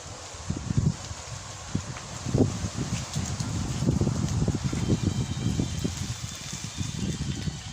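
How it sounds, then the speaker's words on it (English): A gentle breeze buffets the microphone in low, uneven gusts, with soft rustling continuing steadily throughout and no voices. "Today, there's a slight breeze, and I'm trying to capture it for you today."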